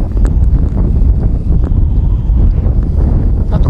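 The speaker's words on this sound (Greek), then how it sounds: "δεν μας βοηθάει και ο άνεμος" Heavy wind buffeting a microphone outdoors during the landing of a Heliway 913 drone, a loud, steady low roar with constant gusty rumble and no voices.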